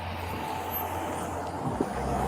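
A steady low engine rumble from an idling car, continuous and fairly close, with no voices.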